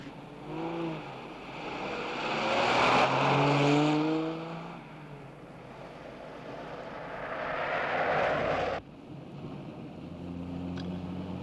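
A car pulls away and drives off in pursuit, its engine rising to a loud, sustained roar that swells twice before cutting off, with no talk over it.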